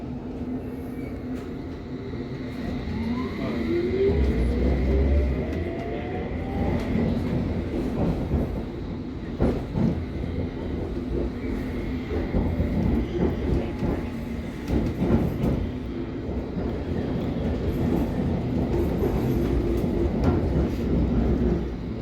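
A London Underground Hammersmith and City line train bound for Barking rumbles along at steady volume, with rising motor whine, rhythmic wheel clatter over rail joints and occasional squeals, heard from inside the carriage.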